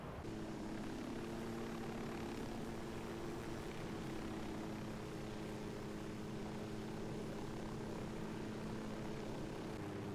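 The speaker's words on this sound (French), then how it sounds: "Vas-y, je te prends en hélico dans les airs, mec." Helicopter in the Ghost Recon video game, a steady, loud rotor and engine drone with strong low tonal hum running unbroken and evenly throughout.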